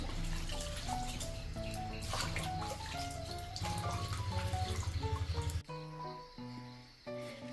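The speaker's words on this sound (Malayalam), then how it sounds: "ഇത് നമുക്കൊന്ന് കഴുകി വൃത്തിയാക്കി എടുക്കാം നല്ലപോലെ" Madanta leaves are washed under running water, a continuous close splash and gush of tap water with a short lull near the end, while soft music plays underneath.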